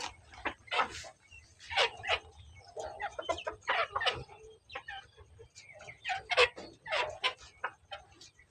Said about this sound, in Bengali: এই দুটো হলো তিতি মুরগি, ভালো জাতের তিতি মুরগি